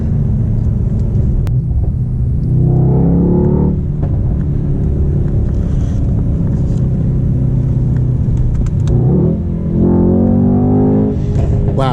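A Mercedes E63S AMG engine rumbles deeply, close-up inside the car. It surges twice in rising revs as it accelerates, with a continuous low drone between the pulls.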